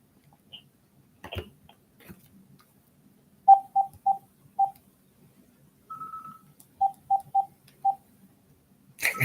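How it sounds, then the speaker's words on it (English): A telephone handset is handled and hung up: a sharp plastic clatter, then a series of short keypad-like beeps in two bursts, and a final knock as it settles, all fairly faint in a quiet room. "I hang my phone up."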